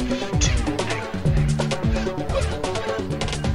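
A monster sings on Space Island in My Singing Monsters: Dawn of Fire, a loud, dense layered musical phrase with bright plucked and vocal-like notes and a steady beat, heard alone.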